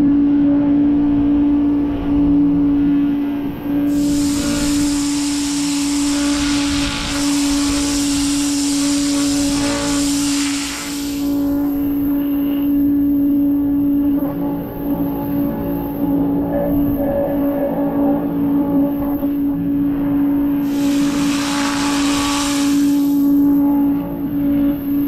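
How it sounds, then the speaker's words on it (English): Giraffe Grand Falls Pro Flo electric pressure washer blasting grime off a transmission, a steady loud motor drone with a strong hum throughout and bursts of broadband hissing spray in two long passes. "so far I haven't got an electric pressure washer to clean grime like that off"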